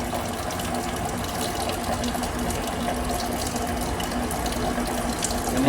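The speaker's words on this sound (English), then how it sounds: "High volume coolant for the OKK mill." A high-volume coolant pump on an OKK vertical milling machine runs continuously, with a steady gushing, splashing wash of fluid and a constant hum underneath, close and unchanging throughout.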